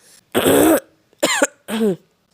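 Three harsh, close coughs from one person with a cold, the first long and raspy, followed by two shorter throaty bursts separated by brief silences.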